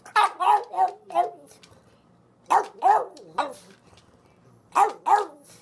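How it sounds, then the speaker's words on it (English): Roxy, a pug, barks for a treat in three quick bursts of several sharp, close barks each, separated by short pauses. "Roxy thinks that she has to have a treat too and won't stop barking until she gets one."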